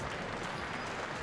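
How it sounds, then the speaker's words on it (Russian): Crowd applause for a fighter at a mixed martial arts event, a brief continuous burst of clapping and arena noise lasting just over a second. "Получает аплодисменты Мещеркин."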